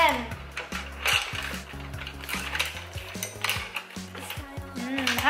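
Utensils scrape and clink against a bowl as Thai beef salad with shallots and mint leaves is tossed and mixed, a steady clatter running under background music and a voice.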